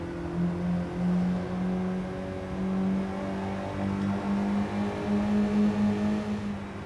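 A new Honda Prelude pulls a third-gear roll-on down a track's back straight, its engine a steady droning hum that climbs gradually in pitch and stays moderately loud from inside the car.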